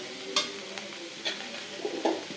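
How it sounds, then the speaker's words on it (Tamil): Onions sizzling and frying over medium flame in a hot pan, with a few sharp stirring scrapes breaking through the steady crackle. "நான் மீடியம் ஃப்ளேமில் வச்சு தான் வதக்கின்னு இருக்கேன்"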